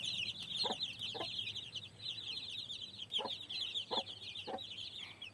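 Young hatchling chicks on a small poultry farm cheep continuously in a high, busy chorus, with several short clucks popping up at intervals; no one speaks.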